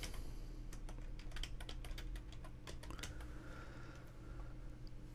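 Soft, rapid typing on a computer keyboard while writing code in a text editor, with irregular bursts of clicking keys heard quietly and alone.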